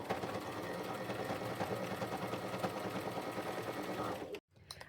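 A sewing machine runs steadily, stitching a patch onto jeans with a dense, continuous mechanical whir that stops abruptly near the end.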